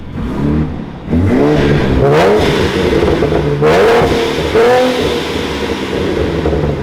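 A car engine revs loudly and close by, rising and falling in several surging bursts with a rough, throaty roar throughout.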